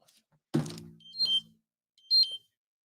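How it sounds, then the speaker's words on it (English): An alarm going off: after a soft thump, two brief, faint, high electronic beeps sound about a second apart against near silence. "we got alarms going off."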